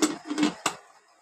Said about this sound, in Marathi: कुकर बंद करून